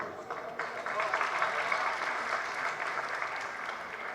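Applause from the audience at a Jain religious discourse during a large festival gathering, a steady wash of many hands clapping at moderate loudness for about four seconds, with faint voices in the background.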